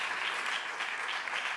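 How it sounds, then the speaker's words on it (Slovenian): Audience applause at the final evening of a Slovenian music competition, a dense, steady crowd clapping that stays loud and even throughout. "Še en aplavz, dajmo."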